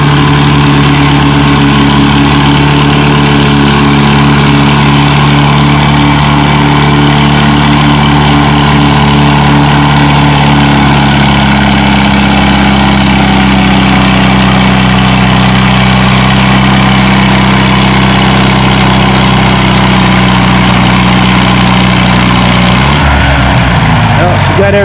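A Massey Harris 44 Special tractor pulls at a tractor pull, its engine droning loud and steady at a strained, sustained pitch for over twenty seconds before the tone drops and breaks up at the end, with an announcer's voice over it.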